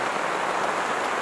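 Heavy rain pours steadily at a car campsite, a dense, even hiss of drops drumming on surfaces with no break and no voices.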